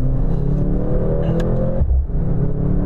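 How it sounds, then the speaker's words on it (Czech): Hybrid four-cylinder Mercedes-AMG C63 running under load, its steady engine drone briefly dipping and surging near the end as the transmission shifts, close and loud with no talk. "zajímavý zvuky vydává taky převodovka"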